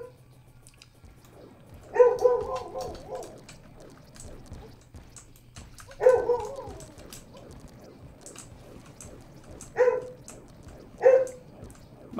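A pet dog barks in the background while a Terraria game is played, giving four separate short bursts of barks spread over several seconds, faint and somewhat distant over a low steady hum.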